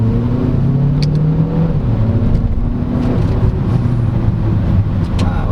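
A 2023 Chery Tiggo 8 Pro SUV with a 1.6T engine accelerates hard, its engine note a steady rising drone heard from inside the cabin with road noise, no talk.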